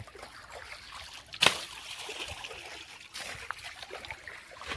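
Water runs and splashes over a motorbike being washed, a steady trickle with brief louder splashes, close by.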